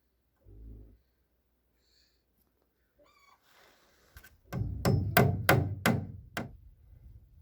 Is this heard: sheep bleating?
no